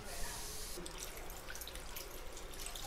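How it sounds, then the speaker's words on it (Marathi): Water is poured from a tap into a bowl of sliced kantola vegetable in a home kitchen, a soft continuous running splash close by, with no talking. "आता ह्याच्यात जरासा पाणी घालून ही गळत ठेवूया."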